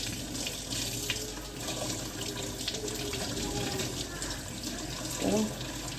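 Water runs steadily from a kitchen tap while herbs are soaked for khinkali, a continuous hiss with splashing, and a voice speaks faintly over it.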